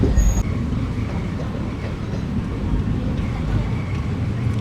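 Passenger train 17248 on its Dharmavaram to Narasapuram run, a steady loud rumble of wheels and carriage noise heard from inside, with a brief high tone at the start.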